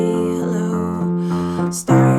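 Piano chords accompanying a song, a close, steady series of sustained chords with a brighter accent near the end.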